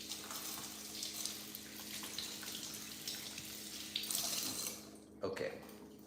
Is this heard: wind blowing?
no